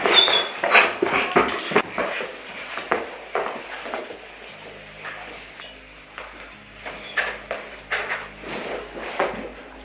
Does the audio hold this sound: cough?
no